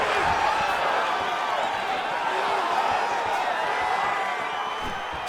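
A large arena crowd at a UFC women's mixed martial arts bout in Edmonton roars and cheers in a steady, sustained wash of noise after a ground exchange, with scattered whoops rising above it.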